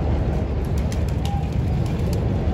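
Pigeons cooing close by, a low throaty rolling call repeated over a steady background murmur, with faint higher chirps scattered on top.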